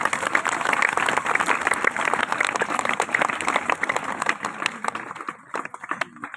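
Audience applause at a magic show, a dense burst of clapping from a crowd that holds strongly and then thins and tapers toward the end.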